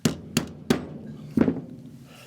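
Four sharp taps on a reassembled Ruger Mark III 22/45 pistol, three evenly spaced and a fourth after a short pause, close and fairly quiet with no talking.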